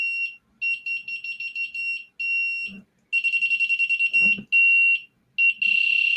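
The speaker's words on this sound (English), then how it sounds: "There's my buzzer test." An electronic buzzer on a robot sensor project beeps in repeated bursts, some steady and some in quick rapid pulses, loud and close, with brief pauses between.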